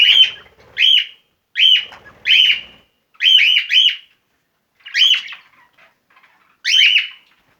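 Pet birds flying free around an indoor bird room, giving bright, close chirps in short bursts of two or three calls separated by brief pauses, with no talking.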